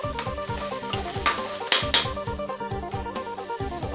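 Cabbage being stir-fried in a hot pan seasoned with fish sauce and sugar, a dense sizzle with rhythmic scraping of the utensil against the pan and a few sharper clanks, close and continuous with no talk.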